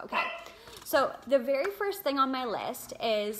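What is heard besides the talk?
small yappy dog barking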